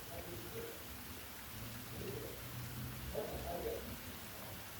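Steady rain hiss in an episode of the anime Dororo, a continuous broadband wash with faint low rumbles, like distant thunder, beneath it, moderately quiet and with no speech.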